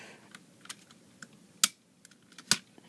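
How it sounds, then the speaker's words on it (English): Small plastic keys clicking into the shoulder ports of a large Transformers Platinum Edition Supreme Starscream toy: quiet, close clicks and taps, with two sharper snaps standing out. "when you plug them into each shoulder port"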